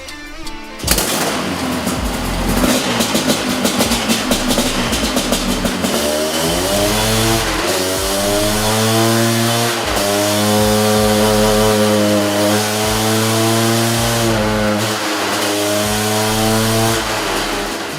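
A 700cc two-stroke dirt bike engine screams on a dyno, starting with a rough, crackling idle before winding up into a loud, sustained high-revving wail that rises and holds with slight wavering, close and without talk.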